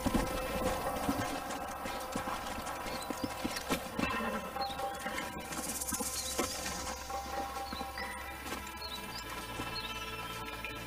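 Horse hooves clip-clop steadily and close by in Red Dead Redemption, a continuous patter of several horses over gritty game ambience, with no voices over it.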